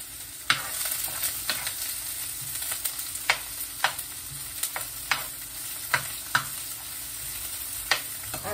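Chopped onions frying in an oiled pan for a Filipino-style chicken curry, a steady close sizzle broken by repeated sharp scrapes and clacks of a spoon stirring at irregular intervals, with no talking.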